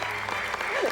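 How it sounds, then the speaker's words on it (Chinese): A studio audience on a TV show applauds to welcome restaurant guests, producing a brief, steady burst of clapping with a voice faintly under it. "掌声欢迎他们。"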